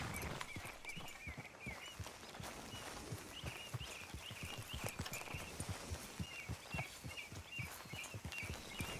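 Horse hooves clip-clop in a steady walking rhythm in the video game Red Dead Redemption 2, quiet and close, with faint birdsong chirping in the background.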